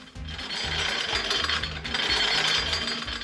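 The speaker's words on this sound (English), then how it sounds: "This is my treasure, the Jiro-Style noodle machine." A Jiro-style ramen noodle machine cuts noodles with a steady, fast mechanical ratcheting clatter of turning gears, loud and close, running continuously with no voices.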